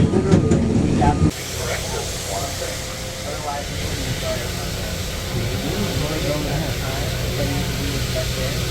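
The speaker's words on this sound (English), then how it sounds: "The train is in motion." The Disneyland Railroad's Lilly Belle coach rolls along behind its train with a steady, loud rumble and a hiss. A brief louder burst comes at the start, then a constant ride noise with muffled voices underneath.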